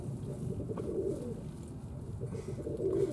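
Young doves with tufted heads give low, soft coos nearby, the gentle murmuring calls repeating over a constant low background hum.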